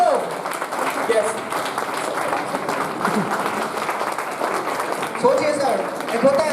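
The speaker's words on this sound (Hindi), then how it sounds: "उनके लिए भी जोरदार तालियां हो जाए" Sustained loud applause from a seminar audience in Varanasi, dense clapping filling the hall throughout with a host's voice calling out over it.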